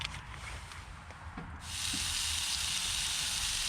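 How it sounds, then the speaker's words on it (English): Steady broadband sizzling from a frying pan on a stove inside a hot tent in sub-zero cold, growing louder and fuller partway through, crackling continuously without any voices. "Oh, starting to sizzle already."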